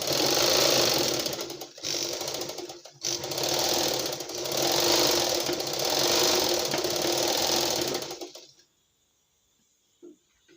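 A sewing machine with a newly fitted carbon-brush motor runs loud and close in a fast rhythmic clatter, pausing briefly twice, then stopping near the end, leaving near silence with a few faint knocks.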